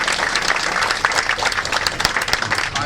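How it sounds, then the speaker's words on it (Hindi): Crowd applause at an Amway corporate event, dense sustained clapping from a large audience filling the space, loud and continuous. "मैं जोरदार ताली चाहता हूँ उनके लिए,"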